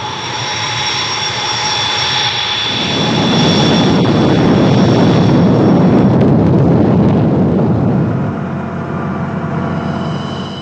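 A jet aircraft of the Indian Air Force flies past, its engine roar swelling to a loud, broad rush in the middle before easing off, with no talk.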